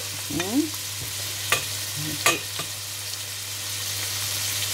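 Butter melts gently with a little oil in a pan over low heat, a soft continuous hiss broken by a few light scrapes of a utensil.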